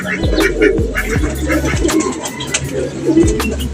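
Pigeons cooing in a loft during a racing-pigeon toss, with repeated low throaty coos in a steady rhythm close by and faint chirps above.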